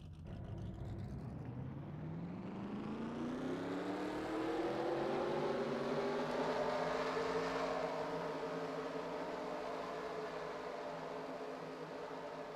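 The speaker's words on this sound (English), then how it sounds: "Drivers, start your engines!" Race car engines start up and rev in a NASCAR-style racing video game at Denver, a rising mechanical drone of many engines climbing steadily in pitch and holding at a loud sustained whine.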